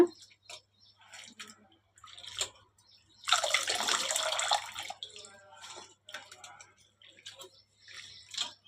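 Chopped leafy greens being rinsed and splashed in a vessel of water for a dal dish, with a burst of running water in the middle and scattered drips and clinks around it.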